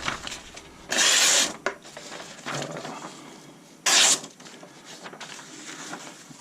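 A folding pocket knife is handled up close, with short clicky mechanical snaps and scraping rubs as the blade swings open and closed, including two sharp louder bursts.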